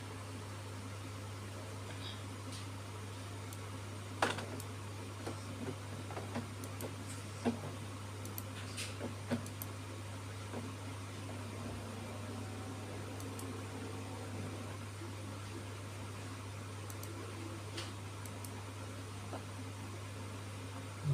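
An Epson ink tank printer switches on and runs, with a steady low mechanical hum and scattered faint clicks and ticks over about twenty seconds.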